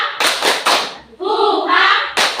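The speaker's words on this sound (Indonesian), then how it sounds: "Kita semua bangkit berdiri untuk kita tepuk semangat." A class of students on their feet does rhythmic spirit clapping (tepuk semangat): a few loud, close claps in quick succession, then voices shouting a chant together, then another sharp clap.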